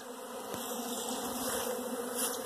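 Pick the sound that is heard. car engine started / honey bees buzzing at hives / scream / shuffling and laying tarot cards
honey bees buzzing at hives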